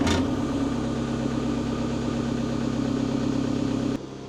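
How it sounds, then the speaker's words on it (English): A Kato machine powered by a 62 horsepower Kubota diesel engine idles steadily at close range with a constant low throbbing drone, then drops noticeably in level near the end. "that Kato right there has a 62 horsepower Kubota diesel engine"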